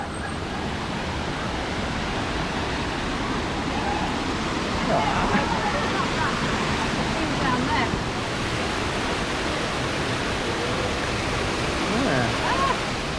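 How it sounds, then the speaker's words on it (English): A waterfall pours steadily during a visit to falls in the Cape, giving a continuous, full rushing roar that swells slightly midway, with faint voices now and then beneath it. "God, there's some water there falling down."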